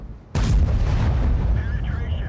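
A tank cannon fires a HEAT round in World of Tanks, a sudden loud boom cutting in after a quiet moment and rolling into a long, rumbling decay with engine noise underneath.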